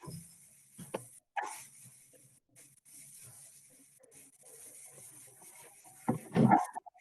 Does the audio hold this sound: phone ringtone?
no